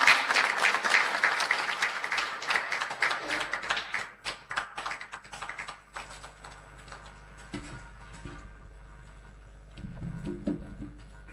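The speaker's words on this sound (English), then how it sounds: "Please, let's continue clapping as it comes." Audience applause at a formal opening ceremony for a management retreat, dense clapping at first that thins after about four seconds into scattered claps, with a brief renewed burst near the end.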